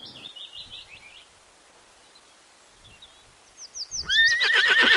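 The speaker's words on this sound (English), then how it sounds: "H for horse." A horse gives one loud, close whinny near the end, rising and trembling, after a quiet stretch with light chirping music at the start.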